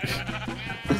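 A sheep in Minecraft gives a single short bleat, close and clear, over game background noise.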